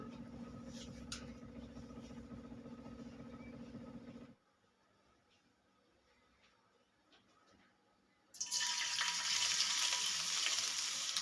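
Mustard oil heating in a pan for baingan bhartha gives off a steady, loud sizzle that cuts out to near silence for a few seconds, then returns as an even brighter, louder frying hiss.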